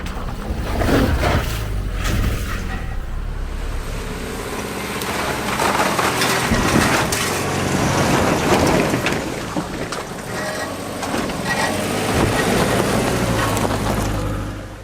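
A Subaru crawling over rough, uneven ground, with a dense, continuous clatter of bumping, scraping and creaking underneath it and a low rumble, loud and close, with no speech.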